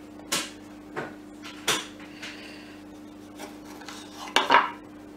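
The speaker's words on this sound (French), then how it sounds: "je vais couper mes petites tomates en deux comme ça" A knife halves small tomatoes on a board, with about half a dozen separate sharp taps spaced across a quiet kitchen and a small cluster of quick knocks near the end.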